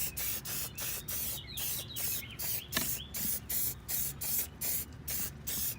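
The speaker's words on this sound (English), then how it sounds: "I definitely recommend spraying the inside of your fender" Cleaner sprayed onto the inside of a 2015 Honda CRF250L motorcycle fender in a rapid series of short, hissing trigger-sprayer bursts, about a dozen in a steady rhythm, close up with no talking.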